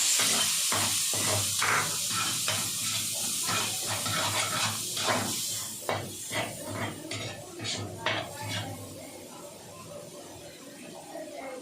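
Chopped onion hits a hot pan already used for carbonara sauce, giving a steady, fairly loud sizzle with scattered scraping and clinking from stirring, and a faint voice now and then.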